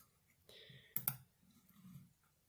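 A computer mouse gives a quiet pair of sharp right-click taps in quick succession against a faint, near-silent background.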